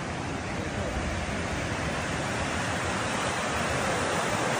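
A river rushes steadily beside a sports complex in the mountains, a dense, even broadband roar close by with no pauses or voices.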